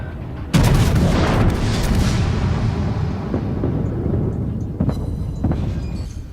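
A battleship's main guns fire in the World of Warships game, one sudden heavy boom that rolls on into a long rumbling decay, with fainter thuds and crackles coming later.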